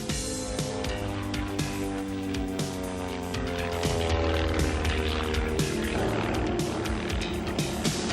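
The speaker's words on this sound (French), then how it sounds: "Dans l'avion, Lucien Canon, un spécialiste des acrobaties en vieux coucou" An old propeller airplane flies a film stunt with a steady droning engine and harmonic whine that rises in pitch as it passes, loud and continuous throughout, with no talk.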